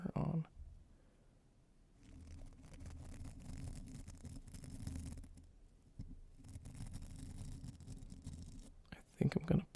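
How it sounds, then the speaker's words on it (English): A soft brush sweeps over a microphone with no filter on, giving quiet, close scratchy rubbing in repeated slow passes with faint gaps between them, and a few brief muffled sounds near the end. "I'll do some mic brushing too."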